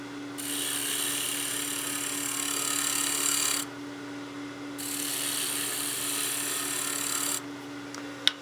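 Wood lathe at a slow feed rate shaving a Christmas gnome body, a steady close scraping in long passes broken by short gaps, with a faint hum underneath and a small knock at the end.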